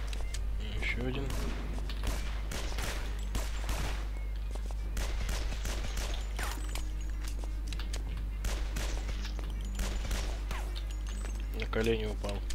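Gunfire in the video game Guns, Gore & Cannoli: rapid clattering shots and bursts run steadily throughout under a constant low hum, with someone talking over the action.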